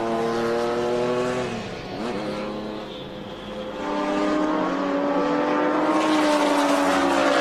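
Vintage race cars from IMSA Camel GT-era sports car racing roar past on a track, engines whining and shifting pitch as they approach, dip, then surge loudly again.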